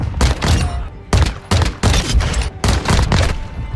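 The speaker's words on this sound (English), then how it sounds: "we do have the P890 Akimbo. These pistols do have high damage, so it can two-shot enemies" P890 akimbo pistols firing in Call of Duty: quick clusters of loud, close pistol shots in uneven bursts, separated by short gaps, with no talking over them.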